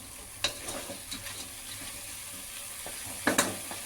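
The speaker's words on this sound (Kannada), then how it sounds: "ಈಗ ಇದು ಒಂದು 2 ಮಿನಿಟ್ಸು ಫ್ರೈ ಆಗಲಿ" Sprouted horse gram, potato and eggplant fry in oil with a steady low sizzle, broken by a few sharp stirring clatters, close by.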